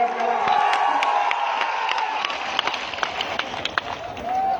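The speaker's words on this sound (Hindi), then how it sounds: "जोरदार ताली बजा के इनका स्वागत करा" An outdoor political rally crowd claps and cheers loudly, a dense burst of applause and shouting that fades slightly, with scattered sharp claps and a voice over a loudspeaker.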